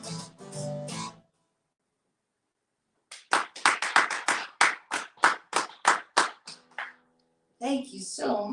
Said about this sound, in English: I hear you guys clapping